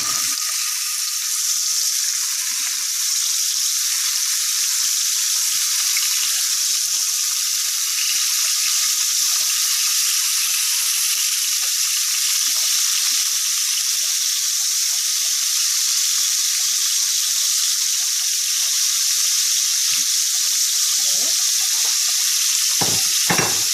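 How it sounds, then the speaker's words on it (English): Steak strips fry in a hot pan with a steady, dense sizzle that stays loud and close and barely changes, and no voices are heard. "So let's start cooking the steak."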